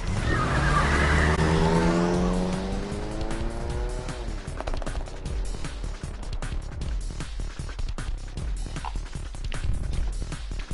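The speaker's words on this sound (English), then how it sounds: "The taxi lurched into motion, the engine quickly revving up." Taxi engine in the video game 428 Shibuya Scramble revving hard as the car lurches off, pitch climbing steeply with tire squeal, then settling into a loud, sustained driving roar.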